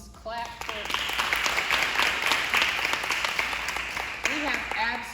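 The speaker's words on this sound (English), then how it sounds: "You can clap now." Employees applaud at a campus town hall meeting, sustained crowd clapping that rises quickly and stays steady for several seconds, with voices speaking at the start and end.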